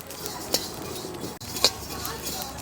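Fennel and cumin seeds are dry-roasted in a pan for homemade masala powder, a faint rustle of stirring broken by two sharp clinks of a spatula against the pan, close and quiet.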